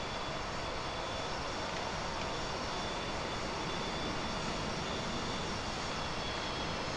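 Aircraft engines roar as a plane holds position for in-flight refueling contact, a loud, unbroken, steady drone throughout with no audible talking.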